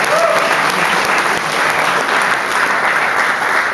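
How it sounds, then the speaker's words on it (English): Steady applause from a live audience at a spoken-word poetry performance, a dense, sustained wash of clapping that fills the room without a break. "Round of applause."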